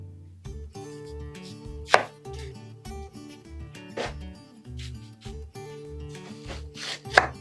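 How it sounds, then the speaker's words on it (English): A dull kitchen knife slices liver thin on a board, giving a run of close, repeated chopping thuds in a loose rhythm with a few sharper knocks and a scraping rub between strokes, and nobody talking. "And I'm just going to slice these nice and thin. You can tell Randy still hasn't sharpened my knives."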